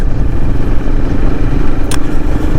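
Royal Enfield Himalayan motorcycle riding on knobby tires, a steady loud engine drone with rumbling low clatter throughout and a brief sharp burst near the end, no talking.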